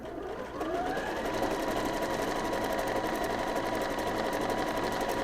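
A sewing machine sews a darning stitch over a patch on jeans, a fast steady mechanical rattle running continuously at close range, with no talking.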